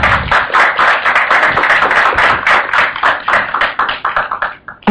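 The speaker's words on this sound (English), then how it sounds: "Can we give them a round of applause?" Loud, close applause from a conference audience, dense rapid clapping that holds steady for several seconds before thinning to a few last claps.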